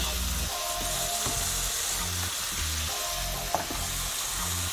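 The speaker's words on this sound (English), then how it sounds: "All right, so now I'm gonna add my cabbage." Cabbage hits a hot pan and fries with a steady, close sizzle, broken by a few soft stirring scrapes, with no voices.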